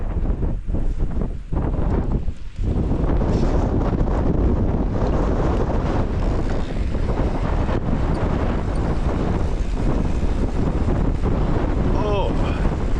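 Strong wind buffets the microphone while mountain biking at Glendhu, a loud continuous roaring rumble with gusty surges, and people talk briefly over it.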